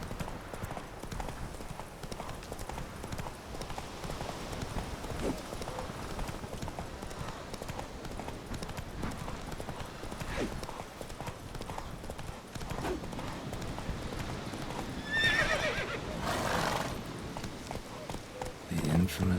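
Horse galloping in The Witcher 3 video game, a steady rapid clip-clop of hooves running throughout, with voices talking over it and a brief whinny-like tone near the end.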